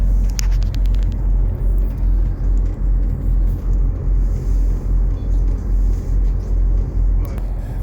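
Car cruising along a road with the heater running, a steady loud low engine and road rumble with continuous broadband hiss from the cabin, no voices.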